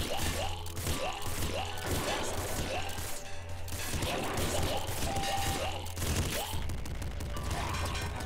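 Machine gun fire in the PC video game Nuclear Throne, dense repeated synthetic shots and crashing impacts over a loud, busy game soundtrack, continuous and near.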